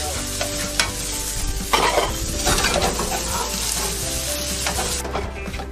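Green onions being stir-fried into vegetable fried rice: a loud, close sizzle with repeated spatula scrapes and clattering against the pan.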